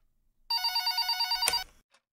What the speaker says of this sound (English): Does the phone ever stop ringing?